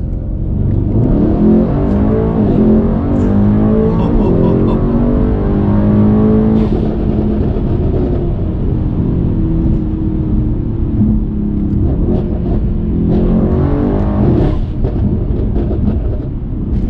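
Tuned Mercedes-AMG W213 E63 S with stage 2+ exhaust and new software in sport mode, revving hard and loud at close range in repeated rising and falling pulls with a deep rumbling exhaust and no talking.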